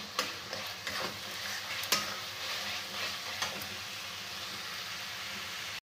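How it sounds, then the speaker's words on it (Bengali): Chicken meat being stir-fried in a pan for chicken chow mein, with a soft continuous sizzle and repeated spatula scrapes and taps at an uneven rhythm, fairly quiet and close. "মাংসটা আমি ভালো করে কষিয়ে নেব।"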